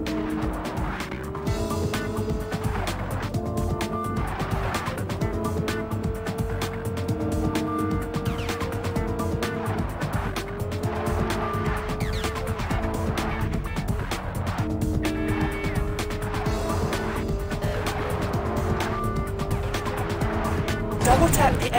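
A car races through an obstacle course in Spy Hunter 2 on the PS2, with a steady engine drone and repeated rising and falling revs, tire noise and skids, under a game voice and music.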